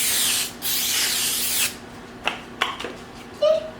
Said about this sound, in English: we're going to spray our pan with the Baker's Joy stuff so that our cookies don't